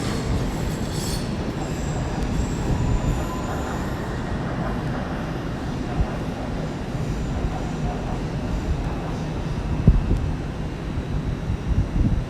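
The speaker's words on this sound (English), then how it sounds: "another tube service going out" A London Underground tube train departs London Paddington, its steady rolling rumble and rattle carrying on throughout, with faint wheel squeal and some wind buffeting the microphone.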